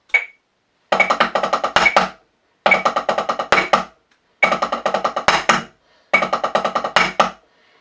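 Four bursts of rapid snare drum long-roll rudiment strokes, each a tight flurry lasting about a second, separated by short silences, played close and loud.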